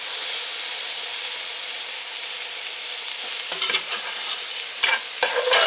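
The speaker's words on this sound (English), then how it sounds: "Move this around, and all that butter and oil, flip it over onto its side." A roast sears in butter and oil in a pan with a loud, continuous, close sizzle, joined toward the end by scraping and knocks as the meat is moved and turned.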